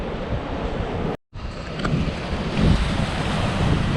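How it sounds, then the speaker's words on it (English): Ocean surf and strong wind at a rugged beach beside a wall of light brown rock in Canada, a steady loud roar of breaking waves with gusty microphone wind noise, briefly cut out for a moment before continuing. "Only sounds of nature and the ocean, especially the ocean,"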